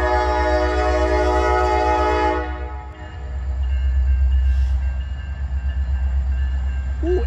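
Norfolk Southern freight train heading westbound at Norfolk, a loud sustained horn blast for about two seconds, then the heavy low rumble of the passing train continuing alone.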